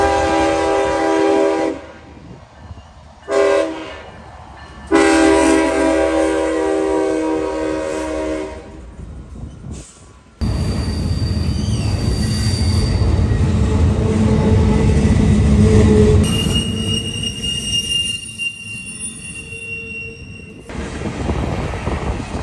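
CSX freight train I-142 rolls northbound, opening with repeated loud horn blasts, then the heavy rumble and clatter of passing cars with squealing wheels, steady and close for the rest of the pass.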